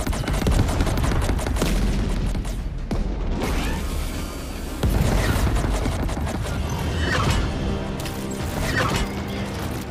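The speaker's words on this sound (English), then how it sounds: "All stations, focus your fire in sector 475." Weapons fire in the video game Frostpunk: a loud, dense barrage of rapid gunfire, crashes and mechanical clatter, pulsing with heavy booms and brief lulls, no talk.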